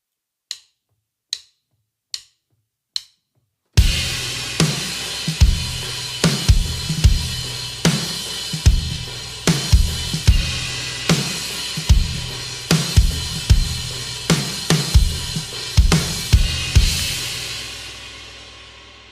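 Four sharp stick clicks count in, then a full drum kit plays loud, steady hits with washing cymbal crashes ringing over the beat.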